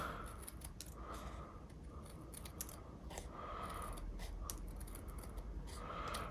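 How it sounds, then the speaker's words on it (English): Quiet snipping of scissors cutting away the edges of a paper craft background, a steady series of crisp little cuts close by against a low background hiss. "we will use our scissors, and we will then just cut away"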